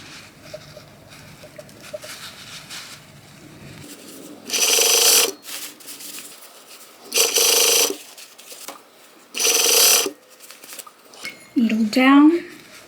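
Sewing machine stitching a cuff onto a jacket sleeve, running in three loud, steady bursts of a couple of seconds each, separated by pauses with handling noise and a short voice at the end.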